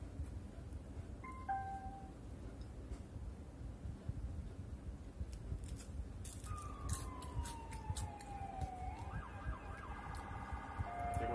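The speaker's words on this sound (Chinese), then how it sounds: "警笛一闪，警笛一鸣笛啊，全部都乱掉了。" A police siren wails in the distance, rising and falling in long sweeps over faint background noise during the second half, with no one talking.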